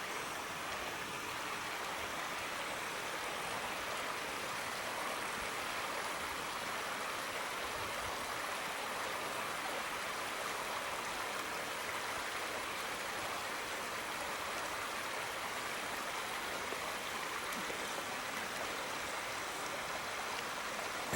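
Stream water flowing below a waterfall along a wooded trail: a continuous, even rushing wash heard from some distance, steady for over twenty seconds with no voices.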